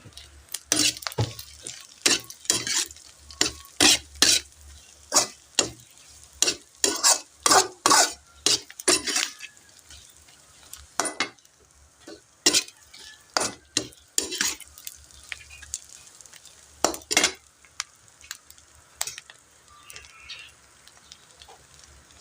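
Onions and chili are sautéed in a pan for sisig. A low sizzle sits under frequent clattering strokes of a metal utensil against the pan, some bursts fast and bunched, with pauses between, all heard up close.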